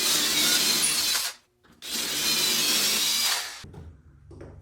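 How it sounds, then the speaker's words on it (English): A power drill bores holes into a wooden workbench top to take threaded inserts for a router lift: two steady, loud whirring bursts with a short pause between them, followed by faint handling noises. "drilling holes for 4-threaded inserts"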